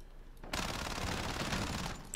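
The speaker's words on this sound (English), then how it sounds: "let's get right into this and shoot some fools with the SMG first" Fennec SMG in Modern Warfare firing one unbroken, very fast automatic burst of about a second and a half, loud and close, with no talk.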